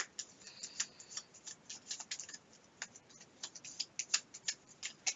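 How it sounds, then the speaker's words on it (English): A deck of cards is shuffled during a solo Gloomhaven board game session: quiet, close, rapid crisp clicks and riffling snaps in irregular bursts, with no talking. "shuffle your deck Okay. and shuffle it well."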